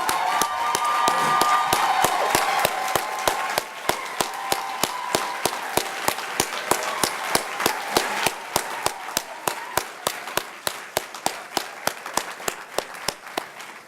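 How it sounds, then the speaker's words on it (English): A graduation ceremony audience applauds graduates' families, starting as a thick crowd ovation with a few cheers, then thinning to scattered claps that end in a single slow, steady clapper. "receive our warm and hearty praise and applause for the things that you have"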